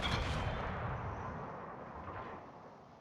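Heavy naval gunfire from the battleship Kirishima in World of Warships, a loud broadside boom at the start that rolls into a long, fading rumble over three seconds, with no voices.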